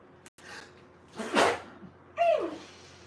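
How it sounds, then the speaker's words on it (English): A single sharp sneeze from an adult during a late-night painting session, close and fairly loud, followed by a short strained vocal groan; otherwise quiet. "Oh, I have to sneeze."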